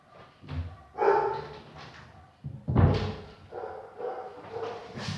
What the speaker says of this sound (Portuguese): meu cachorro está latindo